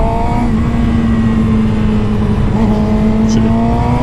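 A car engine pulls hard and steadily through the gears, close and loud, with a continuous droning rise in pitch and little break. A voice talks over the engine noise.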